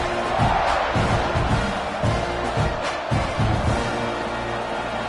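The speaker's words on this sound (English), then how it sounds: "You think this crowd's going to get loud when their defense comes on the field?" A football stadium crowd at a Texas A&M versus Miami game roars steadily, a dense, loud wash of cheering and noise that swells in waves throughout, with faint commentary beneath.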